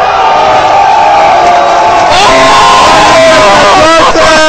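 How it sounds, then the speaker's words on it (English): A tournament crowd at a Super Street Fighter IV Arcade Edition event in Scandinavia roars and yells continuously, loud and close, with excited shouting voices rising within the din. "hear the crowd go crazy."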